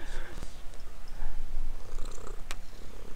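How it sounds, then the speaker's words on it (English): A cat purrs very close up with a low, steady rumbling pulse throughout, with a couple of faint clicks on top. "Can you hear the purring?"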